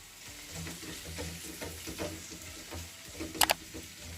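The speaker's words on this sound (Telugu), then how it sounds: "ఇప్పుడు అల్లం వెల్లుల్లి కూడా ఒక మీడియం సైజు ఆలు కట్ చేసి వేసుకోవాలి." Chopped ginger, garlic and a medium potato fry in a pan with a soft steady sizzle and a few stirring scrapes. A quick metallic clink sounds near the end.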